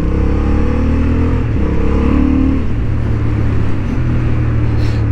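Honda Hornet 750 motorcycle engine on a racing track, a loud close drone that rises and falls as the throttle is worked, with steady harmonic revving shifting pitch through the run and no talk.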